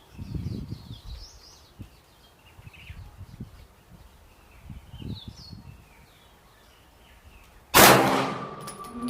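A single distant Sig Sauer P365 pistol shot fired at a steel plate 40 yards out, one sharp loud crack with a ringing tail, preceded by quiet outdoor ambience and faint bird chirps.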